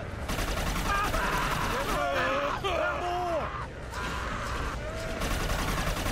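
Shotgun blasts and gunfire ring out in the Inversion shooter game, with someone talking over the combat as enemies yell and groan amid dense battle noise.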